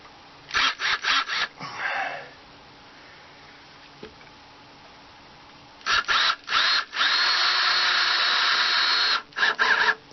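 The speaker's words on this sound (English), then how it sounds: "I'll put that front screw in." A Ryobi cordless power drill drives screws into an entertainment center being built in an off-grid RV, giving several short bursts, a brief whir, then a long sustained run and a final burst, all close and loud with no talking.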